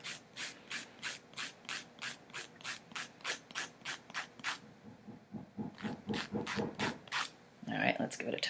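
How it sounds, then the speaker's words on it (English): A nail file works rapidly back and forth over a Jamberry nail wrap on a fingernail, roughly twenty crisp, evenly paced rasping strokes close up, with a brief pause and a final scuffle. "What I do want to do is keep filing."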